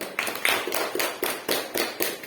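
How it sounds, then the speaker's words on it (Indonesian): An audience applauds a group of presenters in a classroom, with a short burst of loose, rhythmic clapping from a few people nearby, each clap sharp and distinct and no voices heard. "beri tepuk tangan dulu untuk kelompok"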